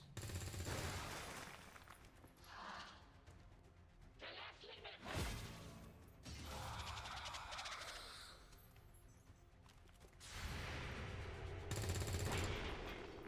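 Gunshots aimed at a sectoid in the XCOM 2 turn-based strategy game, with a few loud broadband bursts spaced apart amid game music and effects.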